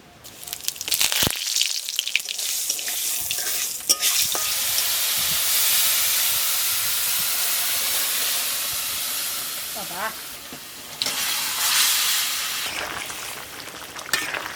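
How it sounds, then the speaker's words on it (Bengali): Whole cumin, dried red chilli and bay leaf sizzle in hot oil, a loud, steady hiss of frying that fills the scene, with brief clatters and a voice speaking faintly at moments. "গরম তেলের মধ্যে একটুখানি গোটা জিরে শুকনো লঙ্কা তেজপাতা দিয়ে দেবো"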